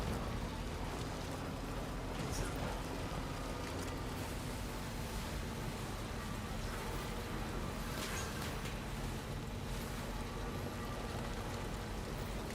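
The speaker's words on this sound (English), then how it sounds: "It has been raining for a minute." Steady rainfall in the video game Death Stranding 2, a constant soft hiss of rain with patter on surfaces and a low hum underneath, unbroken for the whole stretch and no talking.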